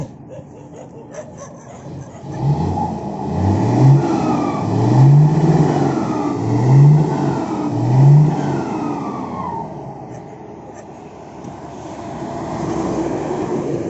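A car engine rumbles in as it arrives, with several rising and falling revs over a low drone that swell loud and close, then ease back to a steady idle.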